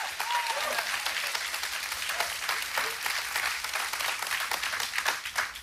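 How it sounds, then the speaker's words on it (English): A church congregation claps together during a Sunday service, dense steady applause near and loud for the whole stretch, with no voice over it. "You're clapping, but I'm not done."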